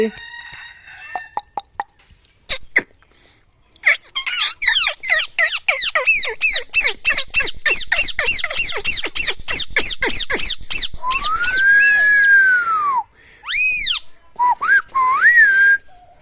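A talking parakeet gives a rapid run of chirpy whistles and squawks, then longer sliding whistled calls, loud and close with short pauses between bursts.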